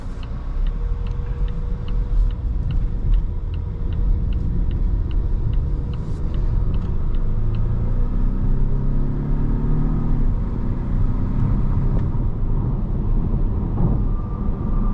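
2024 Volvo S60 T8 Recharge Plus sedan accelerating hard, a loud continuous low rumble with rising engine tone under steady road noise and faint regular ticking.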